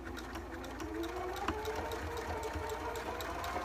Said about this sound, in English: Now I'm going to go ahead and finish sewing